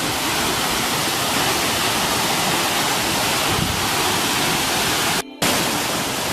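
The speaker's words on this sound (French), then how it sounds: "Ah oui, elle est belle la cascade." Waterfall in Bali, reached down a long stairway: a dense, steady roar of falling water, loud and close, broken only by a brief dropout near the end.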